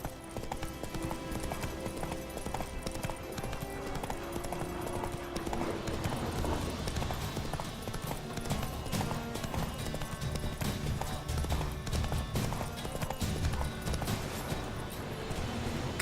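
Horse hooves clip-clop steadily through The Witcher 3 video game, a continuous close trotting rhythm that runs throughout among other game sounds and a faint bit of speech.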